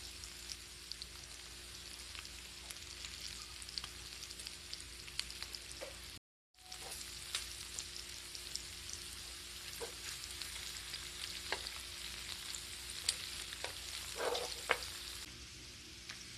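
Pork back ribs, put into a cold pan that is then switched on, sizzling for braised Korean-style ribs; a faint, even crackling hiss holds throughout with scattered tiny pops, briefly cut once, and there is no talking.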